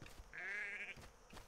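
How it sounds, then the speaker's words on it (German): A small calf in the video game LEGO The Incredibles gives one soft, drawn-out bleating moo in the middle of a quiet moment, faint and alone. "Ein kleines Kälbchen."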